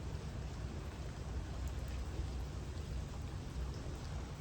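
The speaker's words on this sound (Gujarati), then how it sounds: "વરસાદ ચાલુ જ છે ધીમો ધીમો ધીમો" Steady light rain falls without pause over farm fields, a soft, even patter with a low rumble underneath and no voices.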